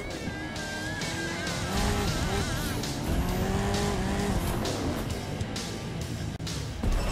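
The Team Hot Wheels monster truck in the Monster Jam Steel Titans video game roars continuously, its engine revving and its tires squealing as it lands and spins donuts, loud and unbroken for several seconds.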